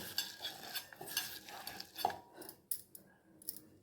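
Salt is mixed into rice flour by hand in a home kitchen for rice bhakri, giving soft, quiet rustling and stirring with a few light clicks against a bowl, close up and without talk.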